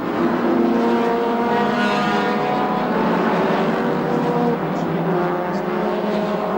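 Touring cars, including a Camaro, roar around the track at the start of a touring car race, a dense, loud, continuous engine drone from several cars with no break.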